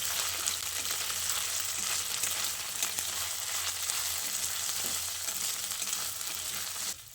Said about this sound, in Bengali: এবার আদা আর রসুনের পেস্টটা দিয়ে আবারও কিছুক্ষণ ভেজে নিতে হবে